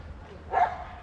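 A dog gives a single short bark midway, at moderate distance outdoors during a foot-tennis game, set against quiet background noise.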